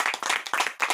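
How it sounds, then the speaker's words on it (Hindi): An audience claps loudly at a motivational talk, several quick bursts of dense hand claps in rapid succession. "एक बार जोरदार तालियां।"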